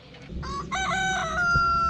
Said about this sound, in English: Our chickens are in here, and it's kind of a mess.